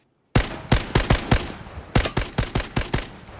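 Rapid gunfire in the online shooter Lost Light, about a dozen loud, close shots in two quick bursts after a moment of silence.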